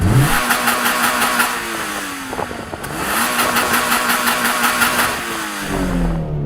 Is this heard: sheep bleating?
no